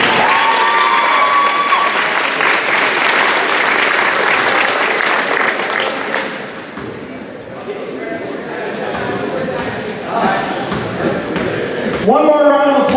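Crowd applause and cheering for seniors and their parents at a boys varsity basketball game between Fraser and Richmond, loud sustained clapping for about six seconds, then fading into gym crowd murmur with scattered shouts and a sharp sound near the end.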